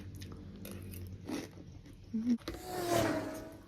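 Crunchy Thai pork rinds are bitten and chewed up close, giving a few crisp crunches and chewing sounds with quiet pauses between bites and a louder crunching burst near the end.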